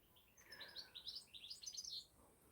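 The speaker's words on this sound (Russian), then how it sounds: "Птички поют." Small birds chirp and twitter in a quick, overlapping burst of high, bright notes, fairly faint and a little distant, outdoors at an old estate on a clear day with no voices.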